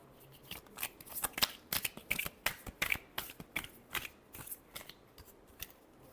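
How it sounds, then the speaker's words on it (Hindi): A deck of tarot cards being shuffled by hand, close and fairly quiet, with a quick irregular series of crisp papery flicks and slaps throughout and no voices. "Last shuffle."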